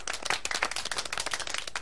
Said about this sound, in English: Let's give ourselves a very big round of applause for that,